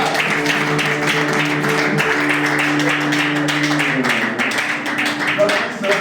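A church congregation claps and applauds steadily and densely, sustained for several seconds, with voices and a held musical tone underneath.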